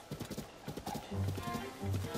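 A horse's hooves clop in Zelda Tears of the Kingdom, a quick run of close hoof beats followed by a snort or whinny-like tone, moderately quiet.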